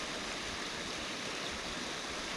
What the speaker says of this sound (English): our little dam that we put up here is bringing enough water to go ahead and carry all of our tailings on downstream